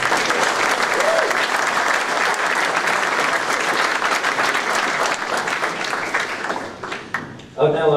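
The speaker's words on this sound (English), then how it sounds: "A round of applause for our sponsors," Audience at a 2008 game developers' awards ceremony breaks into sustained applause, a dense, loud wash of clapping that carries on for several seconds before tapering off near the end.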